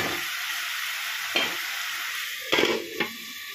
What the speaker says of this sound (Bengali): হলুদ গুঁড়ো জিরে গুঁড়ো দিয়ে এটা ভালো করে নাড়তে থাকবো।